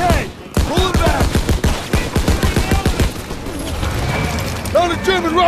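Rapid, evenly spaced gunshots ring out in a Call of Duty WW2 battle against SS troops, a loud close burst of automatic fire followed by more scattered shots, with shouted voices over it.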